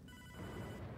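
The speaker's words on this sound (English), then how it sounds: "The phone is still ringing." A phone rings in the video game Hotline Miami 2, a steady electronic telephone bell tone held for about a second at moderate volume, with no talk over it.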